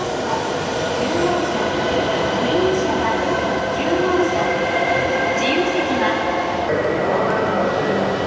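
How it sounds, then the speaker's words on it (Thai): A Japanese Shinkansen bullet train hums steadily and loudly close by, with a low rumble and faint rail squeals rising now and then; a voice speaks faintly underneath. "อันนี้ก็เป็น รถไฟชิงคันเซ็นของประเทศญี่ปุ่นนะครับ"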